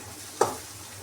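Onions with turmeric frying in a pan for egg bhurji, a single quick stirring scrape over a low, quiet sizzle.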